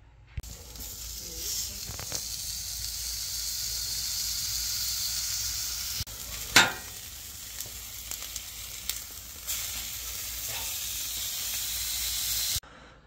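A seasoned Walmart Wagyu steak cooking in a hot pan gives off a continuous loud, hissing sizzle that holds steady throughout, with a sharp crackling burst around the middle and no voices.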